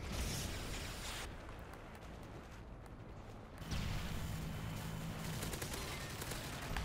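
Continuous gunfire from Call of Duty: Modern Warfare multiplayer with ACR rifles, a dense, loud barrage of rapid shots and explosions that thins briefly and then swells back with a steady rumble.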